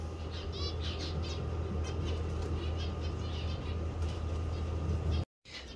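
Bulbul chicks make thin, high chirps in quick repeated bursts, strongest early on, over a constant low hum, before the sound cuts out briefly near the end.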